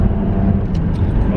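A 2004 Chrysler Crossfire engine accelerates in a brief, loud, low roar heard close by.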